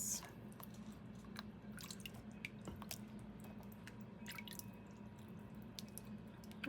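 Washed produce lifted from a bowl of water drips steadily, with scattered close drops and small splashes over a low constant hum, no talking.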